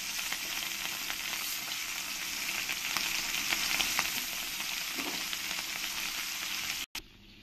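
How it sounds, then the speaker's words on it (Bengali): Rohu fish pieces frying in hot oil give off a loud, steady, dense sizzle that runs almost unbroken, cutting out abruptly for a moment near the end. "এবার আমি পরের মাছগুলো একই রকম করে সব ভেজে নেব।"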